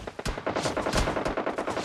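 Rapid automatic gunfire from the video game PUBG Mobile crackles in a dense, loud volley of closely spaced shots, with no talk over it.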